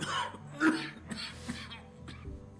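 A single short cough in a video game bar scene rings out near the start, followed by faint breathy sounds and quiet room tone.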